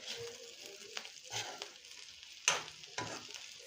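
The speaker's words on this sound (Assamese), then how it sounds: "এই ভাজি থোৱা ফুলকবিখিনি ইয়াত এড কৰি দিম আৰু এইখিনি ভালকৈ মছলাখিনি মই ফুলকবিৰ লগত মিক্স কৰি দিম" Fried cauliflower being stirred and tossed with sizzling masala in a pan, a soft steady frying hiss under a few distinct spatula scrapes and knocks, close and fairly quiet.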